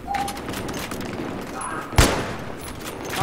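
A single sharp gunshot from the video game Battlefield, landing as a headshot during a Conquest match, cracks out loudly mid-clip over a steady bed of game ambience and background noise.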